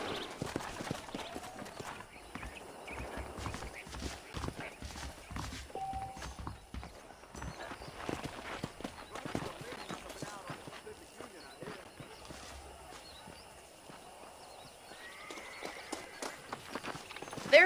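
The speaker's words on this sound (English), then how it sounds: "let's see if you can still ride a horse" A horse's hooves clip-clop at a walk in the Red Dead Redemption video game. The soft, steady footfalls continue under ongoing character dialogue.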